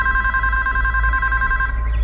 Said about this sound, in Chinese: 这电话一直在响